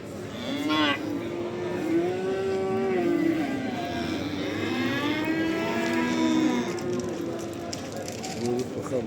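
Calves mooing at the Barda cattle market, several long wavering moos from nearby animals overlapping one another, with market bustle and faint voices underneath.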